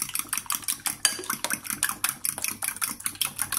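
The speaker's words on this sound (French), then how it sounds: "Continue de mélanger." Whisk or spoon stirring a milk-and-egg beef quiche filling in a bowl, rapid rhythmic clinking and scraping strokes repeating steadily, close and fairly quiet, with no talking.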